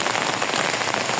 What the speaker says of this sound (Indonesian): Kondisinya panas tapi hujan.